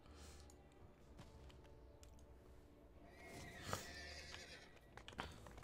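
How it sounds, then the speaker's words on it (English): A horse whinnies in the online fantasy video game Dungeons & Dragons Online, faint and somewhat distant, with light clip-clop hoof sounds and a low background hum. "what brings the horse out?"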